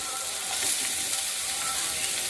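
Nigella seeds and dried red chillies crackle in hot oil with a dense, continuous, fairly loud sizzle up close, unbroken and with no talk.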